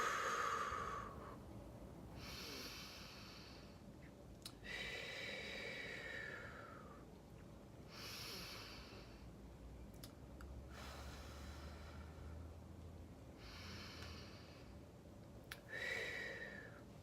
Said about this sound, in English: taking long breaths, inhaling and exhaling